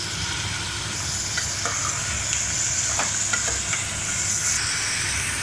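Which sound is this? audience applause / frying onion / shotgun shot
frying onion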